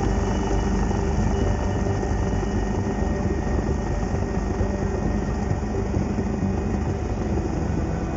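Pelikan 1, a rescue helicopter, comes in to land on a road at a crash scene, its turbine whine and rotor thrum forming a loud, steady, continuous roar.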